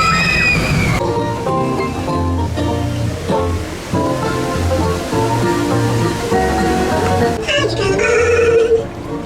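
Splash Mountain log flume ride at Walt Disney World, with water sloshing and rushing continuously under dense, loud ambient music and crowd noise, surging again near the end.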